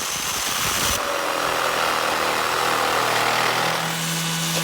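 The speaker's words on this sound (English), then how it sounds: "I used my jigsaw to cut them out" Jigsaw cutting pallet wood into candy corn shapes, a loud, continuous buzzing motor with rapid blade chatter that runs without a break, with no voices.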